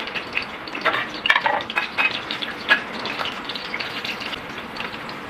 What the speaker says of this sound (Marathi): मग कढीपत्ता घेतला, आपण टाकूया ह्याच्यात.